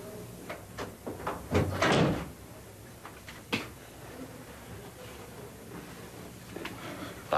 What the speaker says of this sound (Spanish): Entra y cierra la puerta.